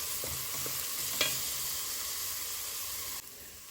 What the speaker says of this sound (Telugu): పచ్చివాసన అంతా పోయే వరకు నేను దీన్ని కలిపేసుకుంటున్నాను